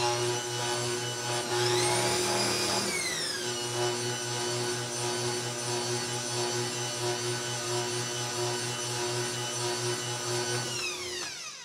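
An electric mixer whirs steadily as it blends yellow cake batter, giving a continuous motor hum with a rising pitch shift near the start and a smooth fade as it stops at the end.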